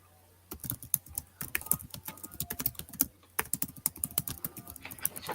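Rapid clattering keystrokes on a computer keyboard, close and fairly loud, coming in uneven bursts with a couple of brief pauses and no talk over them.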